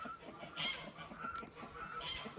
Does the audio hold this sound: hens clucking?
yes